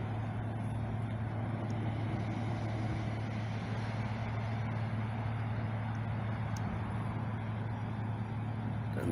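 A car or pickup truck speeds past on a road near Canyonville, giving a sustained rushing roar of tires and engine that holds steady for several seconds, with no voices.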